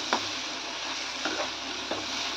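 Ginger garlic paste sautés in a pan for chickpea masala with a soft, constant sizzle. Three brief scraping stirs of a spoon punctuate it at a moderate distance.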